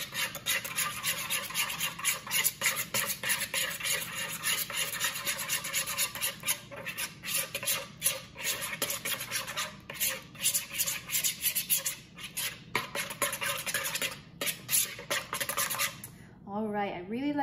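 Homemade cloud dough being stirred into lotion, a steady scraping, rubbing texture with brisk repeated strokes close by, continuing throughout with a brief pause near the end.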